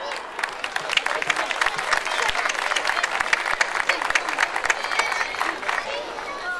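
Audience applause for a singer at a live folk music show, steady dense clapping from a crowd sustained throughout with a faint murmur of voices underneath.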